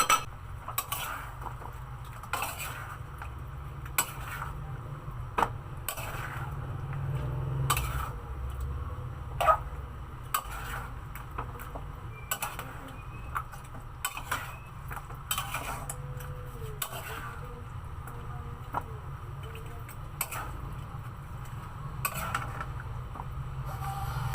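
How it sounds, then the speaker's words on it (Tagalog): A utensil stirs chicken afritada with tomato sauce and oyster sauce in a pan. Scattered scrapes and clinks of metal on the pan sound close, over a low steady hum, with no talk. "Tapos haluin lang na."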